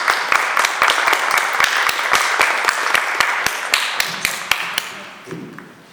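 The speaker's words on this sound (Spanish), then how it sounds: "Un fuerte aplauso, por favor" Clapping welcomes a speaker at a Spanish-language lecture on mathematics and psychoanalysis, a crisp, evenly spaced run of distinct claps, fairly loud and close, that gradually tapers off.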